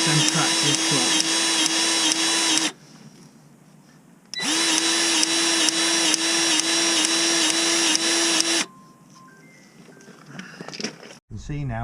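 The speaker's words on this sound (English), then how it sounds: "I've got a battery powered grease gun, so you've got to find the grease nipple" A battery-powered grease gun pumps grease into an excavator's track tensioner, two loud sustained motor whirs with a steady pitch, separated by a quiet pause, followed by faint clicks and handling noise.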